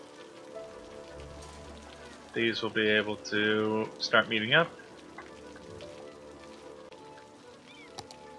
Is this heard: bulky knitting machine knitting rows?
no